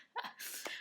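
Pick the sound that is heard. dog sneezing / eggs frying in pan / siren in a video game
dog sneezing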